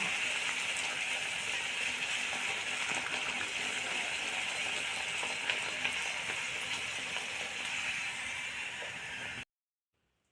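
Mint and coriander poori frying in hot oil, a soft continuous bubbling sizzle heard close and steady for about nine seconds before cutting to silence.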